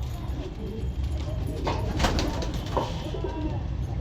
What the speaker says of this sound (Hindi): मैं आप सभी भाइयों को एक कबूतरी और दिखाता हूँ।